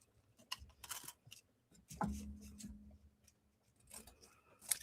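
Scissors snipping around a piece of tulle sandwiched between two craft cards, giving soft, close, intermittent cutting sounds with short pauses between snips and one longer handling scrape partway through.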